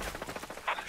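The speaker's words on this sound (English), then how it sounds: "I hear gunfire." Rapid bursts of gunfire in Tom Clancy's Ghost Recon Breakpoint crackle in a quick rhythm, moderately loud, with a brighter burst near the end.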